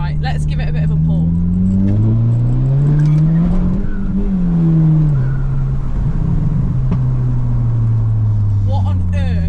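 Engine of a stage 1 remapped Audi TT revs hard as the car accelerates, pitch climbing then dropping at a shift and climbing again, loud from inside the cabin with road rumble beneath.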